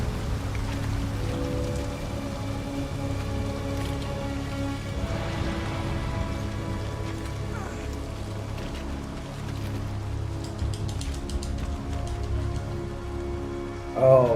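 Steady rain pours in a scene from the video game Detroit: Become Human, a dense continuous hiss of drops on surfaces that holds evenly throughout, with a low rumbling bed beneath and a brief louder swell at the very end.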